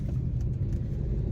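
Steady low rumble of a car driving on the road, heard from inside the cabin, continuous and fairly loud throughout with no talking.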